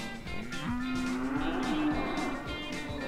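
A cow moos in the video game Cow Thunder Simulator, one long drawn-out call over constant game noise and rumble.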